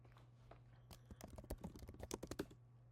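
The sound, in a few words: typing a terminal command on a computer keyboard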